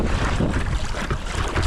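Strong wind buffets the microphone beside Loch Tummel, a steady roaring rush with gusty swells and no talk.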